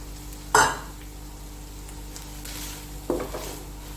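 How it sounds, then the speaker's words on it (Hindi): Chopped capsicum dropped into a hot frying pan, giving two sharp sizzling bursts with spoon clinks, the first louder, over a steady low background hiss. "अब इसी में जाएगा एक छोटा सा शिमला मिर्च"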